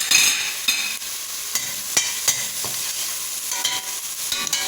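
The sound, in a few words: garlic cloves frying for coxinha dough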